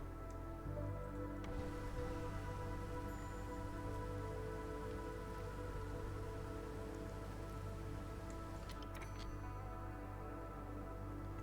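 Drizzling rain in the video game Against the Storm, a steady, even patter and hiss that holds at a constant level throughout with no voices.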